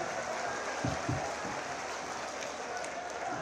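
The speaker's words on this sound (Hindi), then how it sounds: "बहुत जोरदार तालियों से आप सब उनका अभिवादन करें" A large audience at a Maha Kumbh Mela event in Prayagraj, honouring a chief minister, applauds in a steady, moderately distant wash of clapping with a couple of brief thumps early on.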